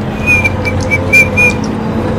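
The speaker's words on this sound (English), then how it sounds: "Whistle as we work." A person whistles a short tune of several clear notes during a Planetside 2 tank session, over a steady low engine rumble.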